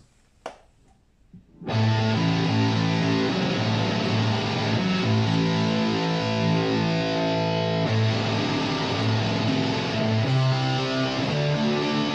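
A thick, buzzing fuzz-distorted guitar through a Boss GT-1000 octave fuzz setting, with a low octave doubling, rings out after a brief pause, holding sustained chords loudly for several seconds.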